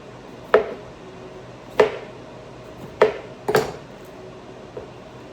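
A knife dices vegetables for a gluten-free skillet dinner, striking a cutting board in four sharp, evenly spaced chops, the last one doubled, each ringing briefly against a quiet kitchen background.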